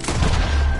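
Gunfire in the Western video game Red Dead Redemption 2, a dense, continuous burst of shots with a heavy low rumble filling the short moment, loud and close.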